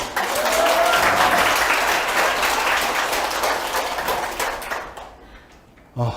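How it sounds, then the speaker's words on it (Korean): Audience applause of encouragement at a Korean corporate training session, a dense, sustained burst of clapping that tapers off toward the end before a brief clatter. "응원의 박수 한번 부탁드립니다"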